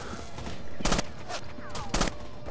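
Bursts of gunfire from the video game Rainbow Six: Vegas 2, two loud volleys standing out over steady game ambience, with brief quieter shots between them.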